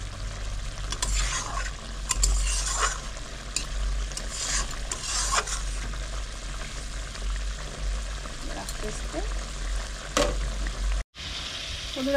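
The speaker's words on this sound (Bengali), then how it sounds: "এবার এটা ভালো করে একটু নেড়ে চেড়ে দিতে হবে।" A spoon stirs katla fish curry in a pan of sizzling oil, with scraping strokes and clinks recurring irregularly over a steady frying crackle, close and moderately loud, briefly cut to silence near the end.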